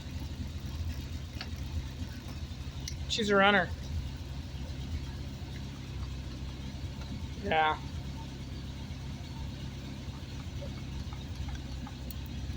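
A 1970s Triumph Spitfire idles steadily nearby with a low, even engine rumble, while someone speaks briefly over it.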